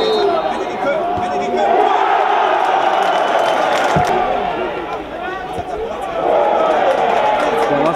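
A crowd of about 1,800 spectators at a Rot-Weiß Essen football match, a steady roar of chanting and cheering that swells and dips, with someone speaking over it.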